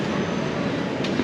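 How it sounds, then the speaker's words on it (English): A train at a station in Antwerp rumbles nearby, a short stretch of steady, loud mechanical roar with a faint high whine near the end. "The train has arrived"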